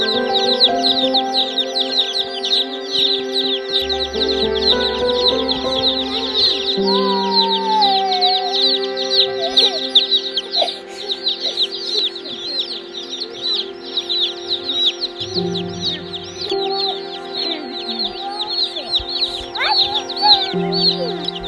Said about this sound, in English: 2-day-old baby chicks right here with our 2-day-old emu right here.